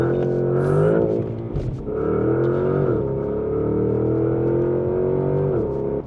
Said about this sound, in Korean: 스포츠 플러스에서 런치 컨트롤.